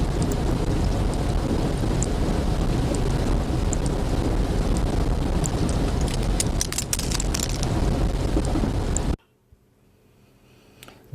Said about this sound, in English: this sound is the subglacial stream, a huge river that flows at the base of the glacier